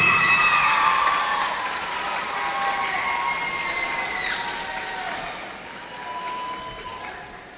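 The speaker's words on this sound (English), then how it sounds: "let's have a huge round of applause for Jose Galindo." A school poetry slam audience applauds in a dense, sustained wash of clapping that gradually thins out, with a few whoops rising above it.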